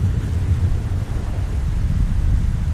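Steady, dense low rumble of heavy rain with gusty wind noise, continuous throughout and fairly loud, with no voices.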